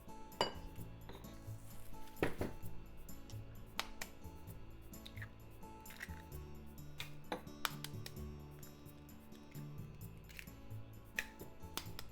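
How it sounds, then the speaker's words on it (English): Utensils clink and tap repeatedly against a bowl in quick irregular bursts as eggs are beaten, with occasional sharper knocks and a low steady hum underneath. "let's beat the eggs in a bowl."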